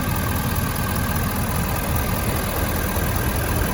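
A 2021 Ford F-250 Super Duty's 6.7-liter Power Stroke turbo diesel engine idling nearby, a loud steady clattering rumble with no pauses.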